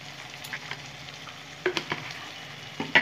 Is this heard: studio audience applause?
no